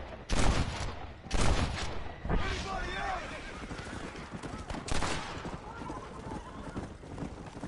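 Heavy gunfire from many enemies in Red Dead Redemption: loud bursts of shots crack repeatedly amid horse hooves and whinnies, with someone talking over the clatter.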